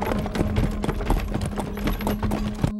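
A horse pulling a delman cart clip-clops at night in a quick, regular rhythm of hoof strikes on hard ground, close and clear, with a faint steady hum underneath.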